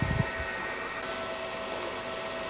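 Two cooling fans spinning inside a HONGPOE MS-1500 1500W switching power supply, a steady whirring hum with faint tonal whine, close and continuous after a brief knock at the start, with no talking.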